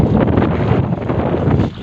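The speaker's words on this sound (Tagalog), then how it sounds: "Super hangin." Strong wind blowing along a seashore at night, a loud, continuous roaring buffet of gusts battering the microphone for nearly two seconds.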